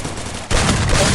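Gunfire bursts in the Free Fire battle royale game, a quieter stretch of shots followed by a sudden louder, dense volley of rapid automatic fire continuing to the end, with no talk.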